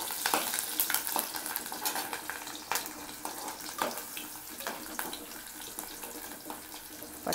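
Tempering spices and green chillies fry in hot oil for an egg curry, with a soft sizzle and intermittent scraping stirs in the pan. The sound is close and fairly quiet, with no talking.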